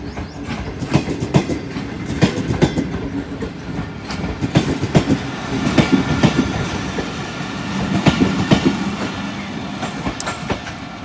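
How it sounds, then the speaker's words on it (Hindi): The Shah Hussain Express running on rails, steady loud rumble from the carriages with repeated clickety-clack wheel beats throughout and a faint squeal near the end. "44 डाउन शाह हुसैन एक्सप्रेस"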